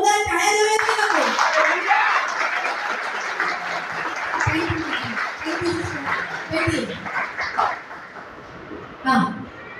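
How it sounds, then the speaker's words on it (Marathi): Loud, dense clapping from a church congregation that starts strong and then thins, with people shouting and calling out over it. "काय आपण येशूला जोरदार टाळ्या देऊया की नको?"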